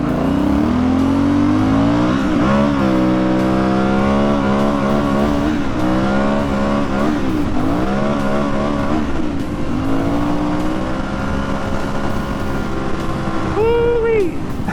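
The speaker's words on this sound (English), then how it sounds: "I redlined the hell out of this bike." An Aprilia Shiver 900 motorcycle accelerates hard from 0 to 60 mph, its engine climbing in pitch through repeated gear pulls toward redline, loud and continuous with wind noise, and a brief high whine near the end.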